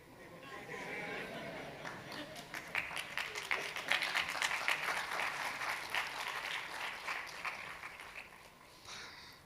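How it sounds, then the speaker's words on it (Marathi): An audience applauds in an interview hall, a sustained patter of many hands clapping that swells in the middle and tapers off, with some crowd chatter mixed in. "तुमच्या टाळ्या खूप कमी होत्या"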